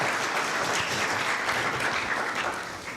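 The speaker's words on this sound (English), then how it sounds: "Please continue clapping." Steady, dense clapping from an audience at the 18th edition of the Film Aid film festival, holding an even level throughout before easing off slightly at the end.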